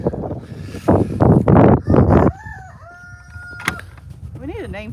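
A rooster crows close by in a farmyard during a frozen winter storm, a loud multi-part cock-a-doodle-doo over the first half, followed by quieter tonal calls and faint bird sounds.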